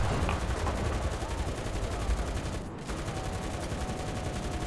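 Gunfire in the WWII shooter game Enlisted rattles in dense, sustained bursts against a constant rumble of battle noise, with no break in the din.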